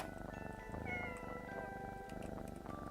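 Cats meowing in the video game Pocket Mirror, several faint, high drawn-out mews repeating over a soft background music drone, with no talking.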